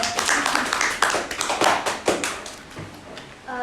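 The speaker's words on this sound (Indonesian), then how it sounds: "Tepuk tangan dong, tepuk tangan." A few people clap on a podcast set, giving a loose, uneven run of sharp hand claps close to the microphone that thins out toward the end.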